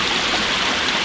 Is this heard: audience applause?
no